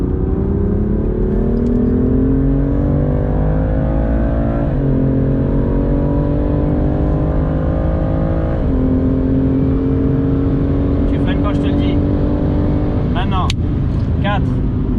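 A BMW M2 CS at full throttle on a race track, its engine climbing steadily in pitch through the gears with short dips at each upshift, loud and continuous from inside the car, while someone talks over it.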